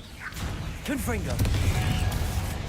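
A Confringo fire spell cast in Hogwarts Legacy bursts with a sharp whooshing crack and crackling swishes over a low rumbling game backdrop, loud and close.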